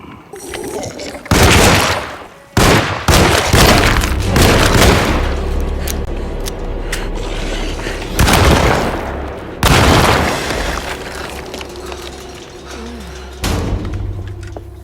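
Loud gunshots in the survival horror game Alone in the Dark (2024): several heavy booming blasts, near and sharp, spaced irregularly with echoing tails and a rumbling ambient bed between them.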